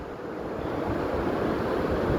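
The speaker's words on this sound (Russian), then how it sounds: "но присутствуют также волны" Waves break steadily on a Sea of Azov beach at Kuchugury on a windy early morning, a continuous dense wash of surf mixed with gusty wind rumble, close and loud without talking.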